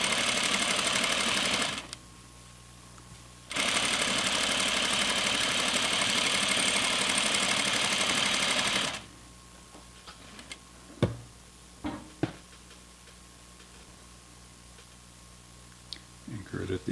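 A sewing machine stitches flannel for pajama pants in two bursts of steady, fast mechanical whirring with a short pause between, then stops, leaving quiet handling clicks and faint taps.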